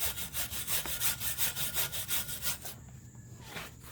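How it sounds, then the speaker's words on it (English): A wire brush scrubs rusty transfer case parts during a Rough Country transfer case drop, with rapid rhythmic back-and-forth rasping strokes that stop abruptly near the end. "So, clean it up with a wire brush."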